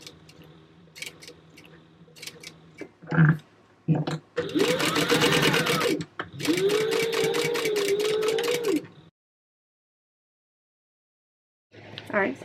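A sewing machine stitches a fabric panel in two sustained runs of rapid, close mechanical ticking and humming, preceded by scattered clicks and handling sounds and then silence before a final short burst.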